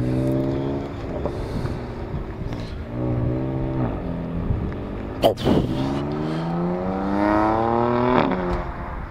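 BMW M4 engine on a race circuit, a loud, close, muscular growl rising and falling through gear changes, with revs climbing in long sweeps and a sharp pop midway.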